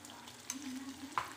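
Garlic-ginger paste frying in hot oil in a pan for an omelette curry gives a brief, soft sizzle, then a stirring scrape and one small utensil clink near the end.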